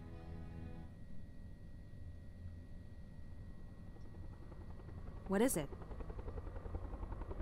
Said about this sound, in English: Sounds like a chopper.